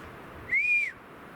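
A single clear whistle sounds in the woods, a short rising-then-falling tone lasting about half a second, moderately loud against a quiet outdoor background.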